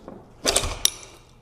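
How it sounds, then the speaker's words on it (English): A wrench slips while breaking a stubborn bolt loose, with a wheel used for extra leverage: a brief scraping rattle followed by a single sharp metallic clank, close and fairly loud. "And our wrench slipped there."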